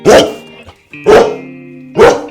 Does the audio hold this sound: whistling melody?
no